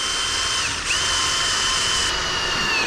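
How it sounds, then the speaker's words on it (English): A power drill whines steadily at high speed, drilling a lubricated pilot hole in a traffic light mast arm, loud and close, with a slight dip in pitch partway through. "Spray a little lube on it and drill our pilot bit in."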